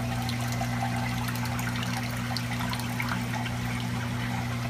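Water from a Masterflex pump on a calcium reactor trickles steadily through a filter sock into an aquarium sump, a continuous close splashing dribble over a low mechanical hum, with no talking.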